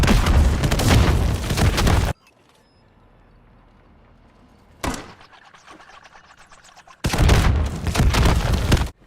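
Grenade launcher fire and explosions in Modern Warfare III on the Rio map: loud broadband blasts and gunfire fill the opening two seconds, then a sharp shot and a lighter rattle, then another heavy burst of explosions near the end.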